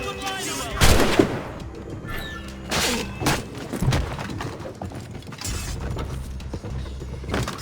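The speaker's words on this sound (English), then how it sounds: "These guns shoot fire!" Fire-shooting guns in Assassin's Creed Rogue, several heavy booming shots spread over several seconds with mechanical creaks and clatter between them, mixed with game sounds.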